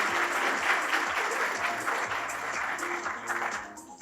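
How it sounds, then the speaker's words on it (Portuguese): A room full of people applauding, steady clapping that holds strong then tapers off slightly toward the end, with faint music beneath. "Vou chamar o Dr. Christopher Garman, pedir uma salva de palmas."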